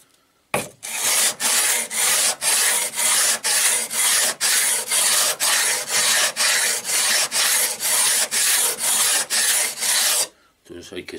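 Sharpening stone for chisels being flattened by rubbing against an abrasive surface, about twenty steady rhythmic back-and-forth scraping strokes, close and evenly paced, with no talking.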